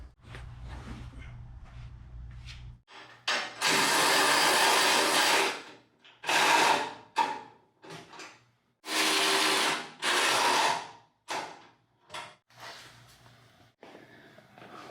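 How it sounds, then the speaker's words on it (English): A power tool tightens the bottom bolts on the front bumper of a 1992–96 Ford truck, running in several loud bursts of a few seconds each with short pauses between them, close by. "Now we just need to put on the bottom bolts and tighten it"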